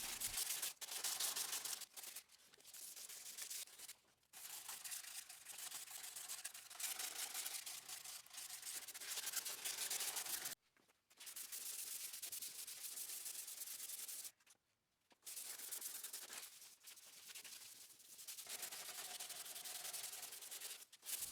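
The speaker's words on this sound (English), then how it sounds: "I'm sanding the bare metal areas with 80 grit" Hand sanding on bare metal of a Honda CR-V: repeated rasping strokes with coarse 80-grit sandpaper, steady and close, broken by a few short pauses.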